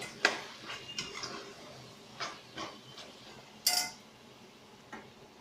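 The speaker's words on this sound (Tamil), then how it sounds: "ஒரு 2-3 தடவை நீங்கள் இந்த மாதிரி திறந்து கிண்டி விட்டுக்கோங்க" A spoon scrapes and clinks against a pot of chicken biryani being stirred, a handful of scattered metallic taps and scrapes at close range with quiet pauses between, one brighter clink near the middle.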